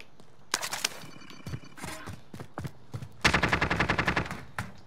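Video game gunfire in sharp bursts: scattered single shots and short volleys, then a fast, loud rattling automatic burst near the end, with softer background shots between.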